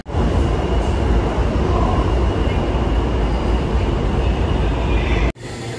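A New York City subway train roars loudly and continuously at close range, a dense rumbling drone that cuts off abruptly just before the end.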